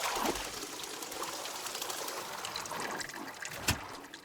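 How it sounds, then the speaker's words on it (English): Soft, continuous trickle and gurgle of water in the video game Wanderstop, close and gentle, with a small splash near the end. "Water."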